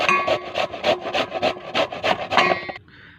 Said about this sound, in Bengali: আমরা বিটটাকে ঘষে নিচ্ছি।